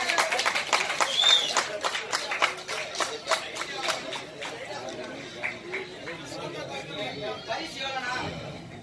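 An audience at a public speech event claps in a burst of overlapping hand claps, loudest early and then thinning into scattered claps with crowd chatter underneath.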